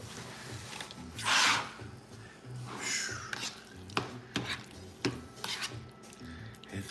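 Steak cooking in a pan, with faint sizzling under clinks and scrapes of utensils against the pan, plus a brief louder hissing burst early on.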